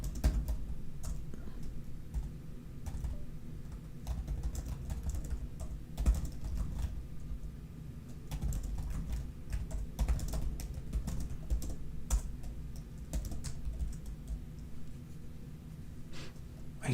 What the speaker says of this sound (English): I assume you're typing something,